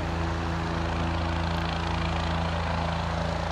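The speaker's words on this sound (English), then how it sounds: "As you can see, the helicopter is here" A rescue helicopter hovers over an ATV crash scene, its rotor chop pulsing steadily with a strong low engine drone throughout, loud and continuous.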